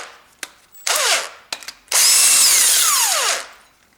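A power drill runs up in several bursts to undo a 10mm bolt on the timing chain cover of a Ford Duratec engine, with short whirs followed by a longer, loud sustained spin.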